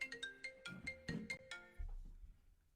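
A phone signals an incoming call with a bright, melodic ringtone: quick repeated chiming notes, close and clear, followed by a low thump as the ringing cuts off.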